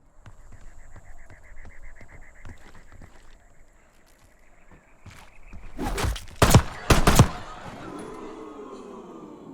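Several loud gunshots ring out in quick succession in a video game as zombie-like mannequins are shot, following quieter ambient game sounds and a low hum.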